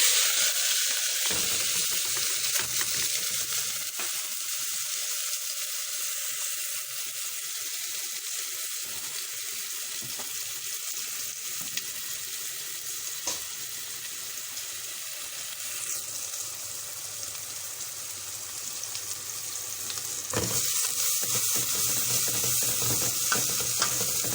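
Two onions sizzle steadily in three spoons of hot oil for a spinach dish, a continuous crackling hiss close by with occasional stirring scrapes and no voices.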